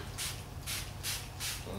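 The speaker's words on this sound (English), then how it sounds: "You just spray this stuff on and let it do its magic." Four short hissing bursts from an aerosol can of rust converter sprayed onto a Nova, evenly spaced and close by, over a low steady background hum.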